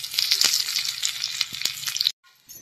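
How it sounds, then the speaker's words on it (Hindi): Garlic added to hot oil in a home kitchen for a village-style dal tempering, giving a loud, steady crackling sizzle for about two seconds before cutting out, followed by a fainter tail of sizzle. "तेल गर्म हो गया, मैं इसमें डाल देती हूँ लहसुन।"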